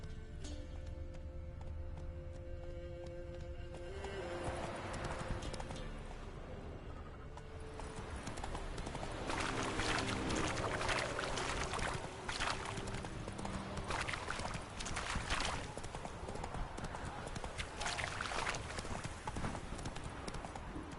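The horse Roach galloping in The Witcher 3, a steady rhythmic clip-clop of hooves that carries on for about twenty seconds, alone and at moderate loudness with no talk.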